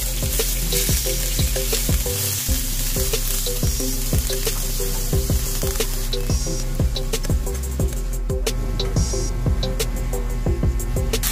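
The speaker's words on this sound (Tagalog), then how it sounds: "Next naman ang gagawin natin, ipa-fry natin yung ating shrimp" Shrimp fry in hot cooking oil in a pan, giving a continuous close sizzle broken by regular, evenly spaced crackling pops, with no one talking.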